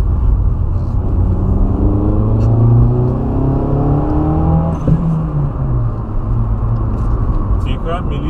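Modified turbocharged Lada Kalina driving with the engine rumbling and rising through the revs, then a short sharp whoosh from the turbo blow-off valve partway through, all close and loud under someone talking.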